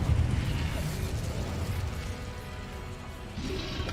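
An Incendio fire spell cast in Hogwarts Legacy, opening with a low burst and a whooshing roar that trails off into a crackling hiss, then swells briefly again at the end.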